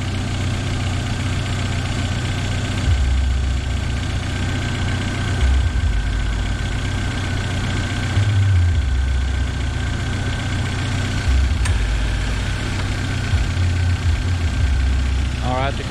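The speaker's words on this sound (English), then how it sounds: "Now I'm gonna crank up the Jeep, cut the compressor on, and let the coolant go in." A Jeep engine idles steadily and loud up close while an AC compressor cycles on for coolant charging, the low rumble continuous throughout with occasional small shifts and someone talking over it.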